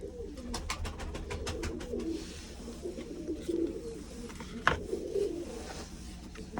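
Pigeons in a loft with their chicks give soft, low repeated coos, fairly close but quiet, with a few sharp clicks and rustles early on and no voices.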